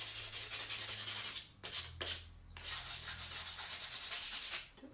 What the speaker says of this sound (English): All right, my sandpaper I have here.